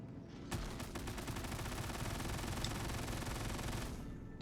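A size 7 Gatling gun fires in the space game Star Citizen, a continuous rapid stream of shots starting abruptly and running for about three and a half seconds before cutting off, loud and near with no talk over it.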